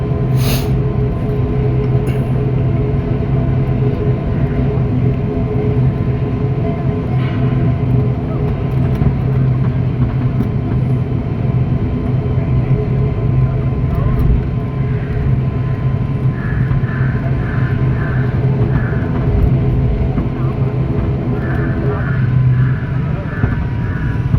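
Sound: IndiGo ATR-72 airplane accelerating for takeoff

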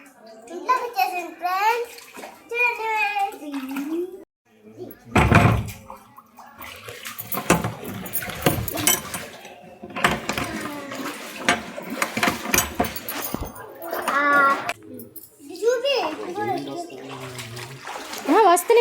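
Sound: floodwater flowing into house

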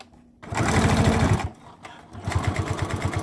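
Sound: sewing machine stitching a face mask

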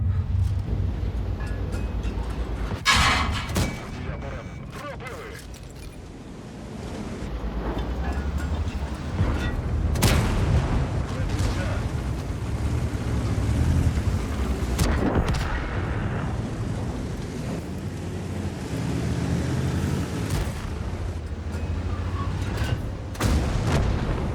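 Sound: tank cannon shots in the video game World of Tanks

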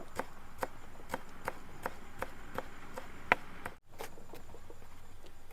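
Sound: chopping coriander leaves with a knife

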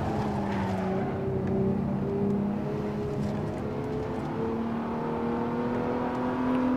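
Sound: car engine during a test drive in the Assetto Corsa video game

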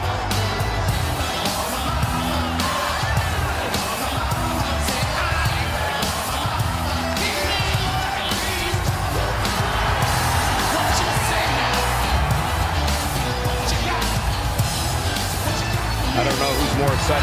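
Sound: wrestling arena crowd cheering and yelling

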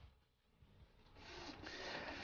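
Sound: printer printing

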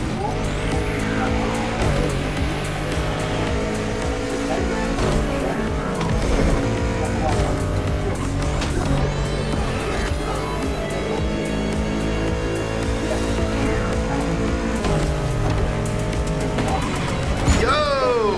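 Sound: racing cars in a street race, video game The Crew Motorfest

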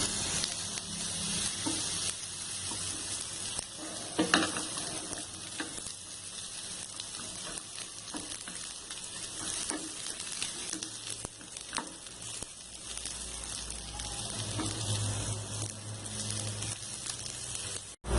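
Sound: radish frying in coconut oil in a pan

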